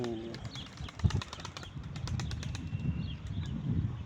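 Soft, quick bursts of wing flapping from a bird close by, with faint coos and low rustling in a quiet space.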